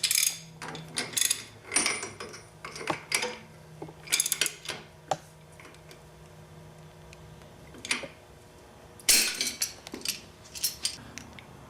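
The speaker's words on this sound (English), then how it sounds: "Locking our clutch locking tool on there." A clutch locking tool is fitted onto a Hinson billet clutch basket, with close metallic clicks, ratcheting and clanks coming in short clusters separated by quiet gaps.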